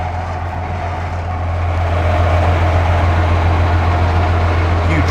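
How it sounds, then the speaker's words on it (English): A steady low rumble of a running train at an abandoned gold mining town, loud and continuous, with a deep engine drone and mechanical clatter that swells slightly after the first two seconds. "I've got to see what this train's about. It's running."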